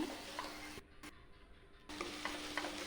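Potato samosa filling with turmeric, cumin and salt is stirred in a pan, giving soft scrapes and a faint sizzle over a short, quiet stretch that briefly drops almost silent.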